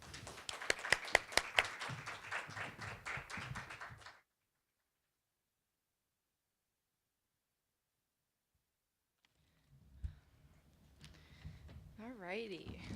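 Audience applause welcoming two speakers onto a healthcare conference stage, dense clapping for about four seconds before breaking off into silence, with faint room noise and voices returning later.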